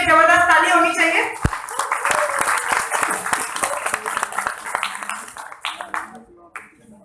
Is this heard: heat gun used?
no